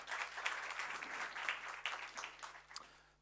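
Brief applause from a small audience, a patter of many hands clapping that fades out after a few seconds.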